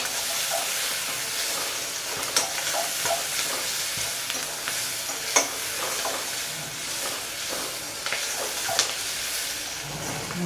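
Onion with turmeric powder frying in a pan, a close steady sizzle and hiss broken by scraping stirs and light clinks of the spatula, with no talking.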